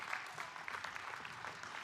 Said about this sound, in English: you can give yourselves a round of applause for that.